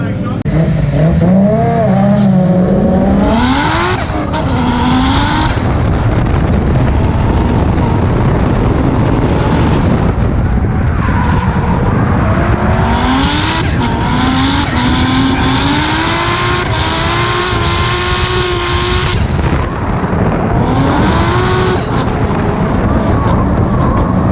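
Race cars at a sunny Queensland track during a practice session, engines revving and sweeping past in repeated loud passes with rising and falling pitch, tires occasionally squealing, with a person talking over parts of it.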